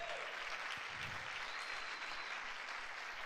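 Congregation applauding at a pastors' gathering, a steady wash of clapping hands that fills the room at moderate level throughout, with no voices on top.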